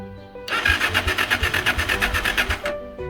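A motorcycle engine with a suspected CDI unit fault being started, a loud rhythmic starter cranking of about two seconds that stops without catching, close to the microphone.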